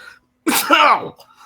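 A single sharp sneeze bursts out close by, loud and brief, with quiet room tone before and after.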